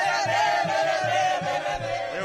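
Palmeiras football supporters singing and chanting together in their home stadium, a loud, sustained crowd chorus with a rhythmic pulsing beat underneath.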